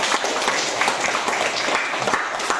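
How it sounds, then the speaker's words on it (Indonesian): Classroom audience of adults applauding during a civics lesson on sovereignty, a dense, lively burst of many hands clapping together at close range, continuous and fairly loud throughout. "beri tepuk tangan untuk kita semua"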